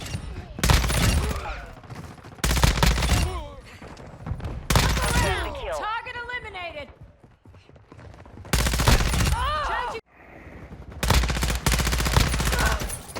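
Rapid bursts of fire from an ISO 45 submachine gun in a multiplayer shooter match, loud clustered volleys broken by short pauses, with a voice talking between and over the shots.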